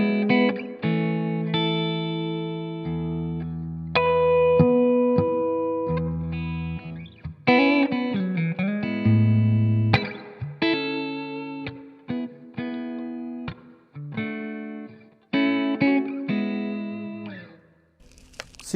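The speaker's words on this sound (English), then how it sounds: "Put the reverb all the way up on the amp." Clean electric guitar notes and chords played through a Blackstar St. James amplifier, each ringing out with spacious reverb tails, loud and close with no talking.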